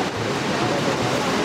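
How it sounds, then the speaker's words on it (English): A waterfall in Yosemite roars in a steady, dense wash of rushing water, heard close and loud with wind buffeting the microphone throughout. "This is definitely better than the last waterfall."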